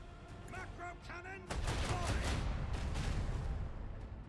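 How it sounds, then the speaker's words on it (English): Voidship broadside cannon fire from the Warhammer 40k: Rogue Trader video game: after a brief lead-in, a loud, sustained barrage of heavy booming blasts rolls on without a break. "And we can get in a broadside."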